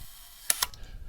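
A Yashica 635 twin lens reflex camera's leaf shutter fires after the self-timer runs down, giving a crisp double click close to the microphone, followed by a faint mechanical tick.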